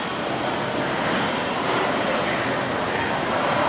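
Steady loud rumble of a subway train at a Chongqing metro station, continuous rolling roar filling the space with no clear breaks.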